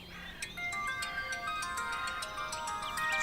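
A phone ringtone plays a bright, repeating electronic melody, loud and close, with no speech over it.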